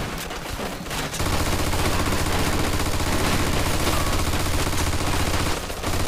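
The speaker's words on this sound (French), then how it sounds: "Bon, on dirait qu'on a retrouvé la mitrailleuse." Sustained machine-gun fire in the video game Mafia 2, a dense, loud, unbroken stream of rapid shots after a brief opening pause, tailing off near the end.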